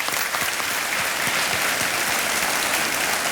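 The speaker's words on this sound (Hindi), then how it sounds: "ताली बजती रहे देवियों सज्जनों।" Studio audience on the Indian quiz show Kaun Banega Crorepati keeps up steady, dense applause, loud and continuous for a few seconds with no voices over it.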